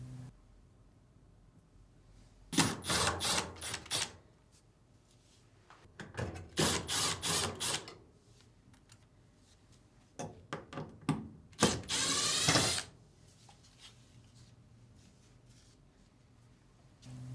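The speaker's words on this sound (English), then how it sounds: "remove the 3 screws on the lint duct" A power driver backs screws out of a Samsung dryer's lint duct in three separate whirring bursts, each a second or more long, with quiet pauses between them.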